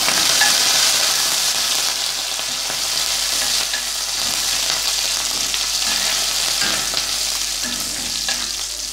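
Curry leaves and garlic frying in hot oil for tiffin sambar, a loud steady sizzle with crackling pops and faint stirring clinks throughout, no voices.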